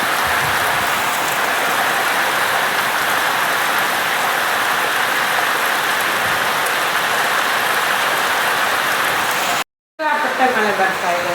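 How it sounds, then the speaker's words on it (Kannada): Heavy rain pours in a dense, constant hiss. It cuts out briefly near the end, then returns with a voice faintly heard over it. "ಸಿಕ್ಕಾಪಟ್ಟೆ ಮಳೆ ಬರ್ತಾ ಇದೆ ಅಂತೆ"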